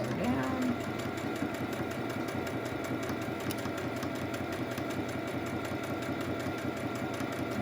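Sewing machine stitching a fabric face mask runs in a steady, fast mechanical whir at close range, with a brief higher tone at the start and no talk.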